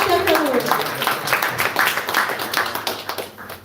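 An audience at a Hare Krishna class applauds the speaker, with brisk, close clapping in a fairly fast rhythm and voices mixed in underneath.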